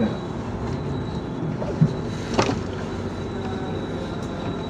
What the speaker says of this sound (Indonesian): KA Gajah Wong sudah sampai di stasiun Jatinegara Jakarta jam 5 lebih 2 menit